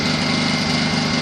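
A Honda EU2000i inverter generator runs steadily, a smooth, well broken-in engine hum with a constant buzzing drone and no change in pitch.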